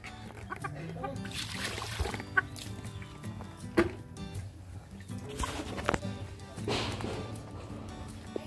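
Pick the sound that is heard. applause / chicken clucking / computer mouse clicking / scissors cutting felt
chicken clucking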